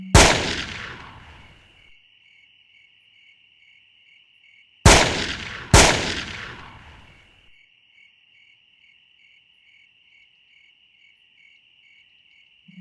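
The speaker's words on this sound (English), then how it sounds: "Whoever was waiting for him, whoever had planned this attack, fires down upon him with a shotgun." Three loud shotgun blasts during an ambush, the first alone and then a close pair about a second apart, each with a long decaying echo, set against a steady high insect-like chirping drone.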